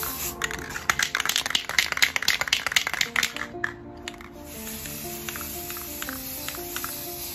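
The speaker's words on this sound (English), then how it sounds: "Of course, that's spray painting." Spray paint hisses in rapid short bursts onto small Dollar Tree buckets, fairly close, then falls to a steady softer hiss with a high whine and low hum.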